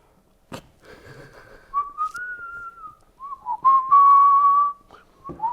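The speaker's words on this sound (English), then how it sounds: "Synchronized whistling" A person whistles a few sustained, wavering tones up close, with brief pauses between phrases and a faint clatter at the start.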